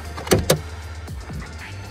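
Hood of a 2018 Ford Mustang GT being opened: two close clunks of the latch and release in quick succession, then softer mechanical creaks as the hood lifts, with no talk.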